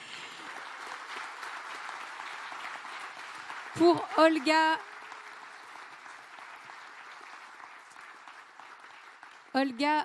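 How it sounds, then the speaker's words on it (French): Audience at a French gala evening clapping steadily in a broad wash of applause, while someone speaks over a microphone in short bursts. "je vais vous demander des applaudissements un peu plus fournis, s'il vous plaît,"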